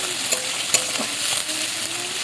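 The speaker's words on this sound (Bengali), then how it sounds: "পেঁয়াজ দিয়ে দিলাম, পেঁয়াজটা একটু ভাজা ভাজা হয়ে যাবে।" Onions fry in a pan for a home-cooked lunch, a steady, even sizzle with occasional stirring scrapes and clicks, close and continuous.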